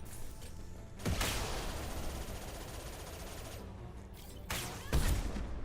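Bursts of gunfire in the sci-fi shooter game Mass Effect 2, loud sharp shots around the first and fifth seconds with rattling combat noise in between.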